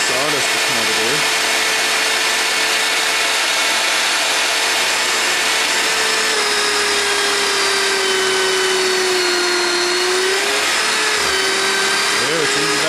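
A power drill bores a pocket hole down through a wooden block and into melamine, a loud continuous whine close by whose pitch sags and recovers as the bit loads and frees up, with no pauses.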